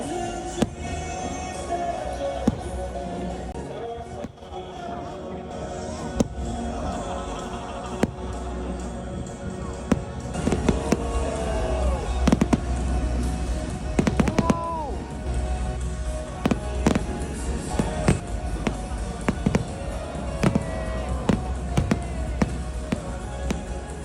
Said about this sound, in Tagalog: Grabe ka ilang fireworks display no?